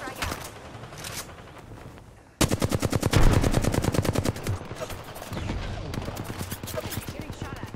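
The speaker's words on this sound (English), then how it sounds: "Getting shot at." Rapid automatic gunfire in the battle royale shooter Apex Legends, a quiet burst at first, then a loud sustained stream of close shots with brief pauses, over game ambience.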